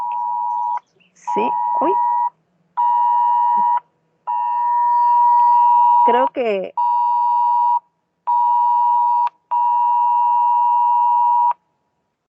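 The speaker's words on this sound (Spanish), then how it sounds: "no sé si a usted le está llegando esa alarma del Sismate, ¿no? Del temblores, pero me acaba de llegar a mí la alarma" A Sismate earthquake alert sounds on a phone as a loud, steady electronic tone, repeated in long pulses with short gaps across the whole stretch, while a person speaks briefly over it.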